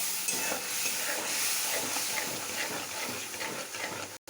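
Whole cumin and dry red chillies sizzle in hot mustard oil in a wok, a steady close crackling hiss that runs without a break before cutting off abruptly at the end.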